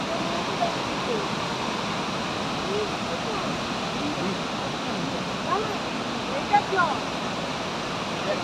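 Water released through the gates of Maithon Dam roars as a steady, broad rushing wash, continuous and fairly distant, with faint voices now and then under it.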